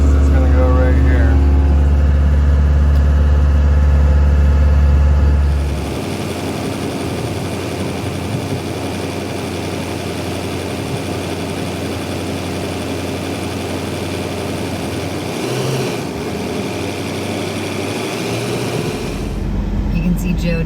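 A skid steer engine runs steadily while a tiny house is moved into place, a continuous low mechanical drone with a loud rumble at the start that eases to a sustained hum.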